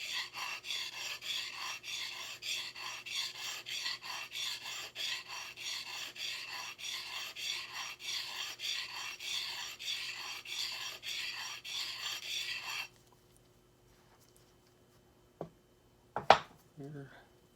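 A gouge chisel scrapes rhythmically back and forth on an old Norton sharpening stone, steady rasping strokes for about thirteen seconds, then silence and a couple of sharp knocks.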